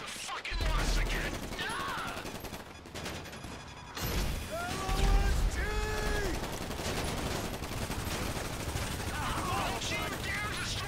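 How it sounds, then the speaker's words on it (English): Gunfire in Grand Theft Auto V crackles in rapid bursts and sustained volleys, loud and close, with people talking over it. "Is that shooting?"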